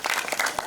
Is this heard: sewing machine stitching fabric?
no